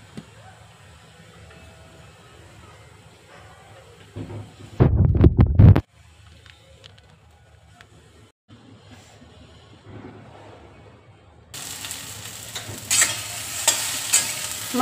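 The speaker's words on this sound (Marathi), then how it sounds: "मसाल्यात आपण वांगे छान परतून घेऊया." Stuffed brinjals fry in masala in a kadhai, a low steady sizzle broken by a loud burst of stirring and scraping near the middle, with a brighter, stronger hiss building toward the end.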